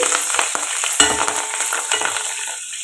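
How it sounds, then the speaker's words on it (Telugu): Curry leaves dropped into hot oil for a drumstick rasam tempering, giving a loud, dense, hissing sizzle with quick spattering crackles that eases off slightly toward the end; close up, no voices. "మనం దీంట్లో కరివేపాకు వేసుకోవాలి కరివేపాకు చక్కగా వేగాలి"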